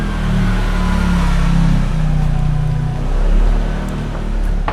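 A motorbike engine hums steadily close by, its drone rising and easing slightly as it passes, loud and alone with no talking.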